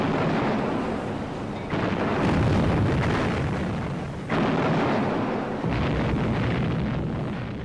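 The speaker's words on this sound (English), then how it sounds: "There was a huge explosion." A massive explosion as the battleship HMS Hood is struck by a shell from the Bismarck in 1941, a loud sustained roaring blast with rumbling surges and renewed bursts, no voices.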